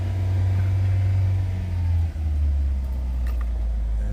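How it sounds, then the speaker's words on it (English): A 2015 Ford Fusion's 1.5-litre turbo engine idles close by with a steady low hum, rising briefly as it is revved a couple hundred RPM before settling back. "you always want to rev it up just a couple hundred RPM, get that oil pressure to build up"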